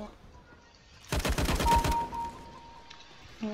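Rifle fire in the video game CS:GO, a rapid burst of automatic shots lasting under a second, sharp and loud against a quiet in-game background.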